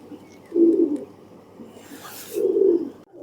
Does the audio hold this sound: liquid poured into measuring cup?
no